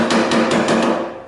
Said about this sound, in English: So we'll give it a little tap